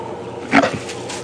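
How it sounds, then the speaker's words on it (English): African wild dogs fighting let out a short, deep barking growl at close range, a single burst lasting well under a second over a quiet outdoor background. "Listen to that funny kind of bark that they let off. It's kind of like a deep barking growl."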